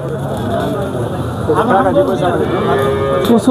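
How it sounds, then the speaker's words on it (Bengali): Cows mooing at a busy cattle market in Sonaichandi, several drawn-out calls rising over a steady background of crowd noise and people talking nearby. "প্রচুর গাভী আমদানি এই সোনাইচন্ডী হাটে।"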